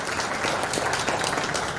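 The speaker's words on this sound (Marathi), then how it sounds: "एकदा वत्सलसाठी जोरदार टाळ्या." Audience applause for a child poet at a children's poetry gathering, a short burst of steady, dense clapping from a sizable crowd.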